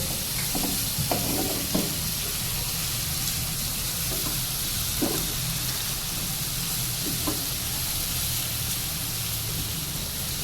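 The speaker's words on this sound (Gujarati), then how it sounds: "એક ડુંગળીનો વઘાર કરી દેવાનો મસ્ત" Onion with ginger, garlic and chilli paste fries with a continuous sizzling hiss, broken by a few soft stirring scrapes and clinks close by.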